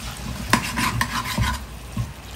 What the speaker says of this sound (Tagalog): Igisa muna natin ng very light ang ating corned beef